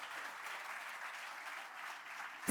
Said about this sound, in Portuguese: Uma salva de palmas ao nosso Deus.